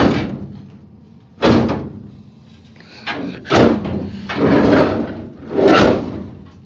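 A camper van door slams shut repeatedly, about five loud, close thuds and bangs spaced a second or so apart, with quiet gaps between them and no talking.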